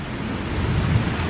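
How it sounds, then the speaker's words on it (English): A Michigan thunderstorm with steady rain and a low, rolling rumble of thunder that swells toward the end, loud and continuous, with no voices. "I love a good thunderstorm though. It's nothing major, it's just a good thunderstorm."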